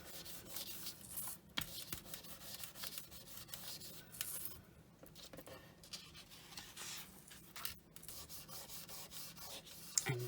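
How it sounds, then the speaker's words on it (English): A fingertip rubs around the outside edge of a handmade Tree of Life craft piece, giving soft, close scratchy strokes that come in uneven bursts with brief pauses. "I'm just going to rub my finger around the outside just to get any fingerprints off"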